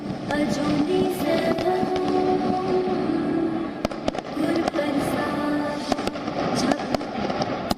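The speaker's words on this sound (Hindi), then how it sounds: "रात के वक्त आसमान में शानदार आतिशबाजी हो रही थी" Fireworks burst in the night sky over the Golden Temple in Amritsar during Guru Gobind Singh's Prakash Parv celebration. Sharp pops and crackles repeat steadily over a constant, busy background din.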